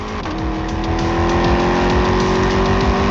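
A Corvette's 409 cubic inch engine running loud and close, a deep, steady, throbbing rumble with strong regular pulses and a rising drone, no voices over it.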